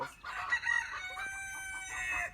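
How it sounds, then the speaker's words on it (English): A young farm rooster crows on a hill, a faint, somewhat distant strained crow over soft clucking from other chickens. "that one up here on the hill, that's another little rooster"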